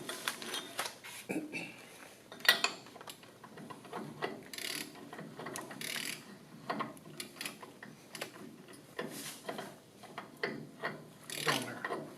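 A ratchet socket wrench tightens a bolt, giving a quiet run of repeated clicking bursts with brief pauses between strokes and faint handling noise.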